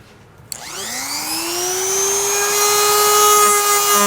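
A power tool starts abruptly and spins up to a loud, steady whine, cutting into the frame rail of a 2021 Ford Bronco Sport during a trailer hitch install, with the pitch settling and holding to the end.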